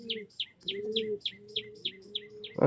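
A red-barred pigeon calls in a loft, a low steady coo running beneath a regular series of quick, bright chirps repeated about every quarter second, ending in a sudden louder burst.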